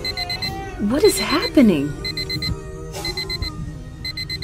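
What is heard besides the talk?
electronic beeping like an alarm clock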